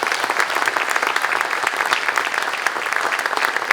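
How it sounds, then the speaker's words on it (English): A Farm Bureau candidate forum audience gives county candidates a round of applause, loud, dense clapping close by that holds steady throughout. "let's give them a nice round of applause."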